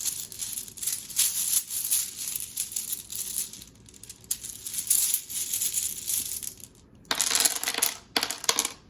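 Letter tiles drawn out for a reading clatter and click against each other, with crinkly rustling and a louder burst of rattling near the end; no talking.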